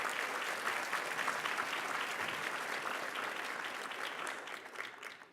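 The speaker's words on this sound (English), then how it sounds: "let's give her another round of applause" Sustained applause from a large audience at a Washington, D.C. gala, steady dense clapping filling the room for several seconds and tapering off at the end.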